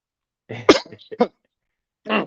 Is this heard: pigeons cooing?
no